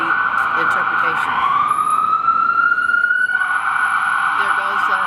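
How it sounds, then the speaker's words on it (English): An ambulance siren sweeps past with a sustained wailing tone that slowly rises and then drops in pitch as it goes by, moderately close, under a faint background of street noise. "There goes an ambulance."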